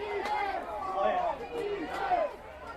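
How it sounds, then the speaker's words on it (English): Pirates fans cheer for their defense in the stands at a high school football game, a steady crowd roar rising and falling under a voice talking over it. "The Pirates fans are cheering on for their defense to make a move"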